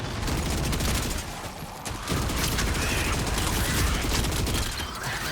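Dense, crackling gunfire in the video game Gears of War: E-Day rattles almost nonstop, with a short dip in the middle before the shooting picks back up.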